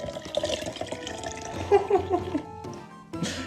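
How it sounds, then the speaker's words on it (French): Hot milk pours into a Nutella jar on a kitchen counter, a close liquid splash and gurgle that swells and fades, ending with a brief hiss. "tu vas y verser ton lait qui est super chaud"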